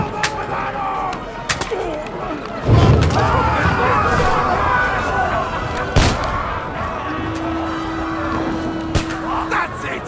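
Medieval firearms and cannon boom through a chaotic siege battle in Kingdom Come Deliverance 2, with several heavy sharp blasts and thuds over a constant din of fighting, while voices shout throughout.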